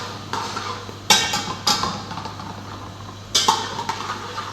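Spices stirred in a hot cooking pot with a metal spoon, giving several sharp clanks and scrapes against the pot at irregular intervals, close up, over a steady low hum.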